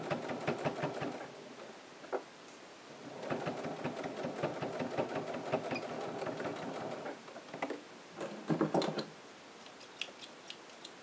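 Sewing machine stitching a piped pocket, running in bursts with rapid rhythmic needle ticking, brief stops and restarts, close and steady.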